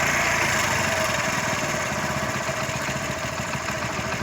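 A Hero Splendor Plus motorcycle engine idles steadily up close, a loud, even mechanical putter with rapid regular firing pulses that barely vary throughout.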